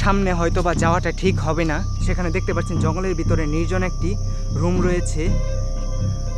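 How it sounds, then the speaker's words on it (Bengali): Crickets in an old, quiet jungle near a deserted rail station keep up a steady, high, continuous drone while someone talks over it throughout. "শুনতে পাচ্ছেন ঝিঝি পোকার আওয়াজ।"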